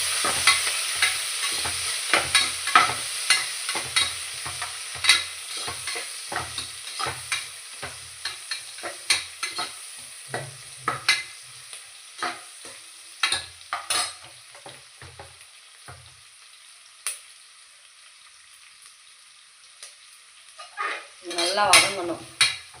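Green chillies and onions sauté in a pan with a soft sizzle, while a spatula stirs and scrapes in repeated clacks. The stirring thins out near the end, and a brief clatter follows.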